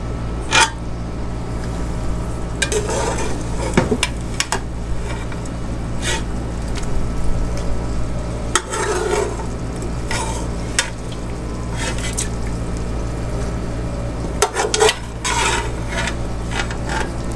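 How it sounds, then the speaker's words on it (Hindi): Mutton for korma is stirred and fried in a pan: a continuous low sizzle with repeated scraping and clinking of a spoon against the metal, close and steady, with no talking. "अब पैन के अंदर हम अब मटन को भूनेंगे।"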